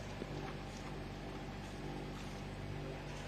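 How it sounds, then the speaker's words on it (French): A low, steady boat engine drone with a rough, odd-sounding exhaust rumble runs continuously throughout, close and constant with no pauses. "C'est vrai qu'il fait un bruit chelou le moteur au échappement."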